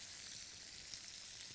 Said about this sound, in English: With that nice hot bubbling butter